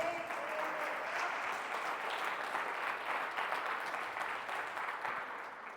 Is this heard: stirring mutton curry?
no